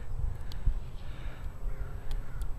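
Crows caw outdoors a few times at a distance, brief sharp calls spaced apart over a low rumbling background.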